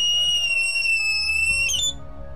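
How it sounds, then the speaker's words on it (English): A personal shriek alarm blares a piercing, steady high-pitched tone with several harmonics, loud and close, before cutting off abruptly near the end. "This is our shriek alarm."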